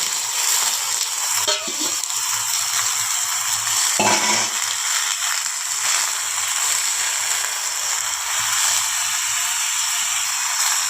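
Lote fish wrapped in banana leaf sizzling in a pan as it is turned over, a steady soft frying hiss with a couple of brief scraping clatters from a utensil, no voices.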